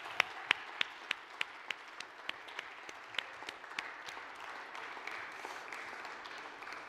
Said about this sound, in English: Shall we give a clap to the King of Kings and to the Lord of Lords?